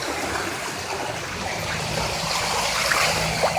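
Seawater waves wash over a flooded residential street on Baywood Drive North in Dunedin, Florida, a steady close rushing and sloshing of water that continues unbroken throughout.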